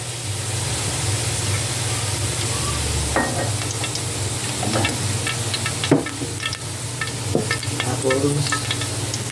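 A little cooking oil heating in a frying pan sizzles with a steady, close hiss throughout, broken by occasional small pops and crackles.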